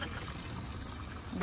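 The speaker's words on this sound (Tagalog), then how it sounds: "Lalagyan ko lang ng tubig to." Water runs steadily into a container, a faint, soft continuous trickle with no talking.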